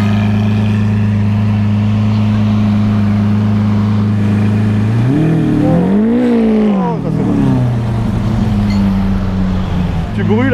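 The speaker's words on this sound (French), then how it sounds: "Écoutez-moi ce son à l'échappement." A Lamborghini Aventador LP700-4 idles loud and near, then its exhaust is blipped twice, the pitch swooping up and falling back before it settles to a resonant idle.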